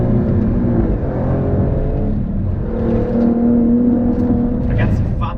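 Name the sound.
Alfa Romeo Stelvio Quadrifoglio 510 hp engine on track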